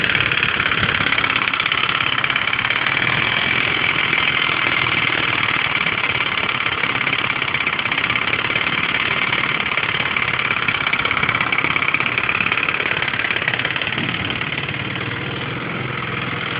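A Lingben Messiah four-stroke scooter moped idles steadily and close by, a continuous even engine drone that holds for the whole stretch and eases slightly at the end, with no talking.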